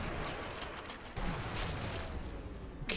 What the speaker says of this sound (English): Give me a covering fire.